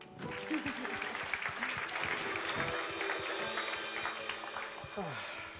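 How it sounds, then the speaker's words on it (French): Church congregation applauding after a pastor introduces his wife, a steady wash of clapping lasting several seconds, moderately loud and continuous with some background voices mixed in. "Vous pouvez l'applaudir."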